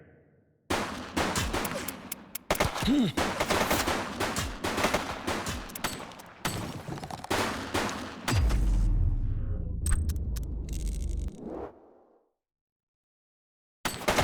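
Gunfire in the police game The Precinct, dense rapid bursts of shots, loud and close, running for several seconds before a rumbling boom and sudden silence.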